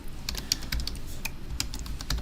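Rapid, light clicks of a computer keyboard as a file name is typed, an uneven burst of close keystrokes with brief pauses and no talking.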